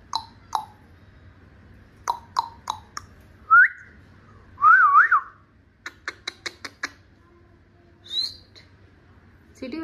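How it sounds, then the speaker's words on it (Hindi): A pet parrot whistles on command: scattered sharp clicks and chirps, then several rising and warbling whistled notes, a quick series of tapping clicks, and another short whistle, near and fairly loud. "सीटी बजाओ"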